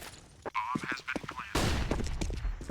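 Bursts of gunfire in a Counter-Strike esports match, with rapid shots under an excited caster's commentary and crowd-like noise swelling toward the end.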